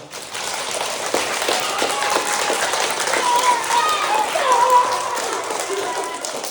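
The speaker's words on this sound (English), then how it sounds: "I want a big round of applause for Graham for leading this morning." Students in a school assembly clap together, a dense crowd applause with a faint voice or two mixed in, steady and fairly loud throughout.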